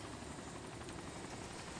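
A helicopter in the video game DayZ Epoch gives off a loud, steady rotor and engine roar that fills the whole stretch without a break.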